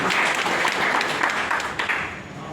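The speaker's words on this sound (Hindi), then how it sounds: "जोरदार ताली डॉक्टर मिर्जे के।" A seminar audience in Doha, Qatar, claps loudly in a dense wash of applause that stays strong, then thins and fades over a couple of seconds.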